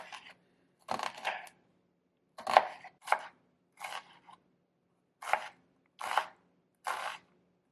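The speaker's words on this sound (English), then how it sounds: "we're just going to chop our onion" Close, crisp knife chops through an onion on a cutting board in short irregular bursts, several quick strokes grouped together with quiet pauses between.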